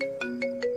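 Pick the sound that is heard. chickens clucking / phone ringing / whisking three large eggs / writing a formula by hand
phone ringing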